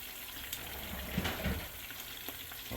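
Slices of queso frito cheese brown in a hot frying pan, giving a steady, moderately quiet sizzle with a few soft pops and shifts, heard alone without talk.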